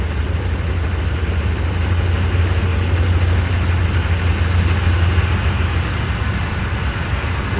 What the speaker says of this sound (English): That C-30-7 is just pumping out all kinds of exhaust.